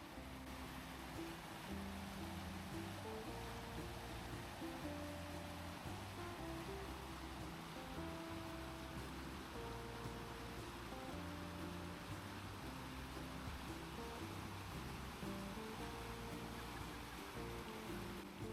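Spring water of the Pader river flows and bubbles through the spring basins in Paderborn, Germany, surrounded by houses, giving a steady, moderately faint rushing wash without voices.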